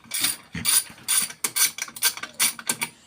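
A ratchet clicks in quick, uneven bursts while undoing a 10mm bolt on the EJ251 engine of a 1999 Subaru Liberty, about nine close, crisp ratcheting strokes with no voices.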